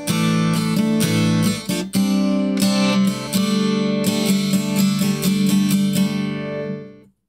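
An acoustic guitar strums the chorus chords of a song, played loud and close in a steady rhythm of bright strokes before the last chord rings out and fades.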